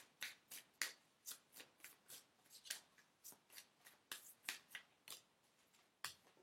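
Tarot cards riffled and shuffled by hand in a steady run of crisp, close flicks and snaps, each burst quick and bright, with no talking.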